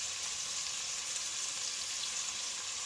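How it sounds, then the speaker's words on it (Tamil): Tomatoes sautéing in a pan for biryani, giving a steady close hiss and crackle of frying with no talk. "இப்போ பாருங்கள், தக்காளி போட்டிருக்கோம். இது கொஞ்சம் நல்லா வதங்கட்டும்."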